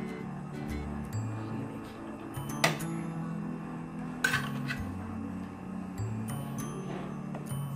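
Tomato biryani being dished out of its cooking pot, with a few clear metallic clinks of a serving spoon against the pot amid soft scraping and kitchen background hum.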